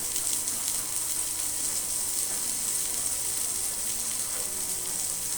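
Food fries or grills in a pan with a steady, faint, even hiss of sizzling oil that runs the whole time, with no voices.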